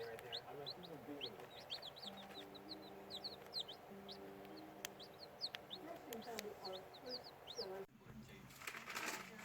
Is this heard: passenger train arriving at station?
no